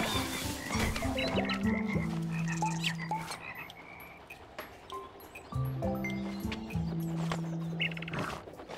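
A frog in the video game Toki Tori 2 croaks over and over in bursts, close and clear, with no voices over it.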